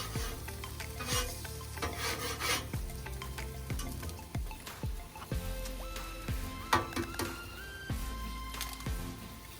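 Eggs and potatoes frying on a Blackstone griddle outdoors, with a soft steady sizzle under scattered clinks, scrapes and taps of a metal spatula moving food around, fairly quiet and close.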